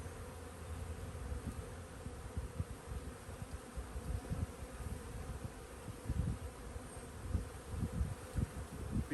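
Honeybees swarm around a hive fitted with a beetle-trap bottom board, a steady dense buzzing drone throughout with fluctuating low hum and no voices.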